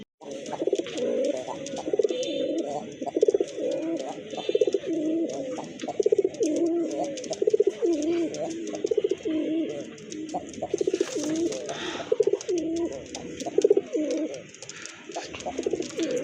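A pair of large pigeons in a loft coo again and again in rounded, rhythmic bursts, close and clear, with light rustling between calls.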